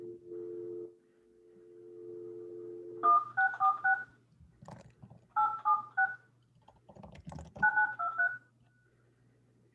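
Telephone keypad tones from a caller dialing into a city licensing board meeting: three quick bursts of dual-tone beeps, each a short run of pips, following a steady dial tone, with muffled background noise between.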